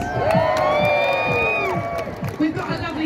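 A crowd cheering for New Zealand lets out a burst of whoops and shouts, with several voices rising together over a busy, echoing room.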